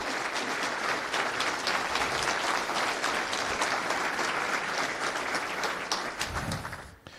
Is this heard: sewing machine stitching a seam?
no